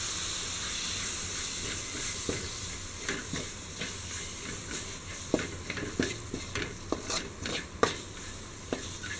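Chopped tomato is stirred into a frying masala for Kerala-style beef biryani, giving a steady sizzle and hiss with irregular spoon or ladle scrapes and clinks against the pan, close and continuous without talk.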